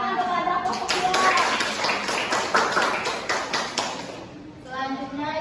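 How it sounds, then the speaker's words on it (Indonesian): A school class claps for a student group, a short run of sharp, uneven claps from a small number of children, framed by classroom talk before and after. "tepuk tangan kepada kelompok dua"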